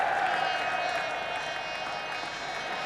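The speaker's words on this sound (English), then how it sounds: "So the applause finally for John Wright goes through to 51" Steady crowd applause at a cricket match, greeting batsman John Wright reaching his fifty in a NatWest Trophy final, a broad continuous clapping wash held at a fairly even level throughout.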